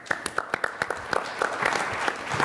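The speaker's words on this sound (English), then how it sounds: "Please clap for him." Applause from a conference audience at Money20/20 2018, a crowd clapping with sharp individual claps at first that thicken into a fuller, steady round of clapping.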